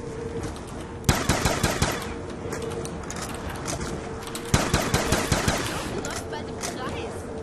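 Rapid gunfire from shooting from the hip in Black Ops 2 Zombies, two loud bursts of repeated shots over a constant game background hum, close and sharp.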